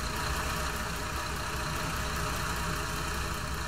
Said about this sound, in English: You can hear the engine